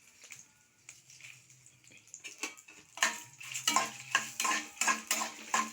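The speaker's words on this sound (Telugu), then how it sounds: "10 ఎండుమిరకాయలు తీసుకున్న తర్వాత ఏగుతున్నాయి" A spoon scrapes and clatters through dried red chillies roasting in a pan. Sparse taps at first give way to louder, rapid rhythmic scrapes and rattles against the metal.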